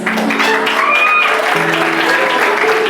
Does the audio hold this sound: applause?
yes